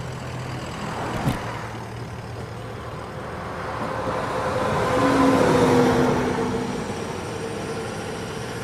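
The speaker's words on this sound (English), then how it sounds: "That's a tractor." A tractor truck drives past outdoors, its engine rumble swelling as it nears and then fading, with a faint tonal whine mid-pass and no talk.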